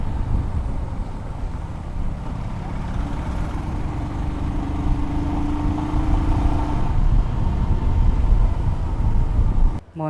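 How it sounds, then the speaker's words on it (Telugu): A vehicle engine runs with a rough, noisy silencer, making a steady, heavy exhaust drone close by. A faint tonal hum rises briefly in the middle, and the sound stops suddenly at the end. "నాయిస్ అయితే చాలా రఫ్గా వస్తుంది"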